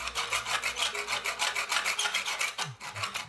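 A hacksaw cuts through an old speaker connector on a Beovox CX50 speaker, making steady, rasping back-and-forth strokes at a quick, even rhythm, close up and moderately loud, with no voices.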